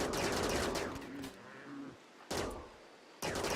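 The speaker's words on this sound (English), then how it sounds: "Why is it taking so many bullets?" Gunfire in the video game Rimworld comes as a sustained volley of shots, then fades and returns in short sharp bursts separated by brief pauses.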